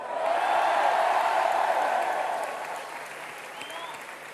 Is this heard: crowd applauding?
yes